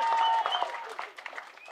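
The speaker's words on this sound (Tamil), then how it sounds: "தயவு செஞ்சு நீங்களே ஒரு தடவை கைத்தட்டிடுங்க" An audience at a movie audio launch claps in a short burst of applause, close and dense at first, then thinning and fading toward the end.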